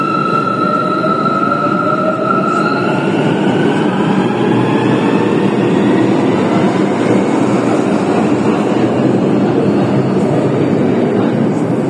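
A Cairo metro train rolls along in a loud, steady rumble heard from inside the car, with rising whining motor tones early on that fade into continuous wheel and track noise.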